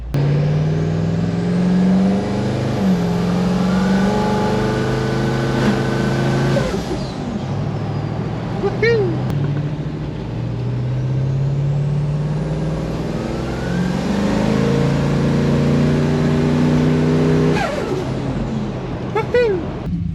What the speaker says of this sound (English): jump in the big twin turbo LS80 series, go get some fuel